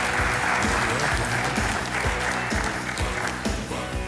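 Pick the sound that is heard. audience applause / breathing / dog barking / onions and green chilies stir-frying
audience applause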